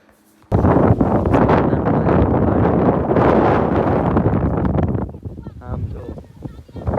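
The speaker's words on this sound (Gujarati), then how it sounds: "કેટલો પવન આવે છે જો." Strong wind gusting hard against the microphone outdoors, a loud roaring rush that starts abruptly and holds for several seconds before easing into quieter gusts.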